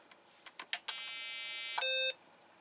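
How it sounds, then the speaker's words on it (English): A BBC Master computer switched on gives a steady electronic beep of about a second after a few soft clicks, fairly clear and alone. "we get a beep and we do get a picture"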